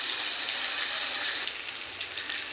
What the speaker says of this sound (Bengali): এরকমভাবে মাছগুলো সব আমি খুব ভালোভাবে ভেজে নেব